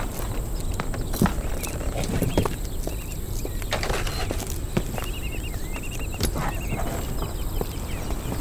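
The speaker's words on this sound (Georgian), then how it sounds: "ბატონო, გურავ, ცხენები თავლაში წავიყვანო?" Horses walk with steady, moderately close hoof clip-clops, sounding like hooves on a hard surface, over a constant background bed in a period drama scene.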